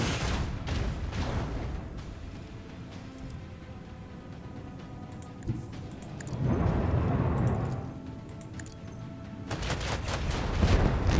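Gunfire from the Warhammer 40k Rogue Trader video game crackles in bursts over a constant game soundscape, with a swelling roar midway and heavier volleys returning at the end, no talking.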